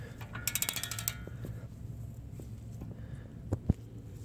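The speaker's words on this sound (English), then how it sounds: "now I'm just going ahead and getting this loose with my ratchet here" A ratchet loosens a bolt on the suspension of a Dodge Ram 1500. A quick run of close, sharp clicks comes first, then faint clanks and a couple of metallic knocks over a quiet garage background.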